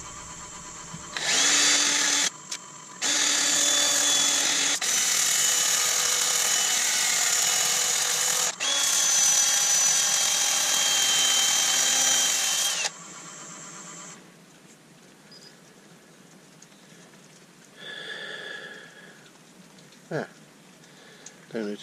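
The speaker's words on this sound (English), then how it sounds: "Time for a little bit of sanding." A lathe whirs loudly in long bursts with brief pauses, high-pitched and close, while sanding a small beech wooden bowl, then quiets to softer scraping and short mechanical sounds.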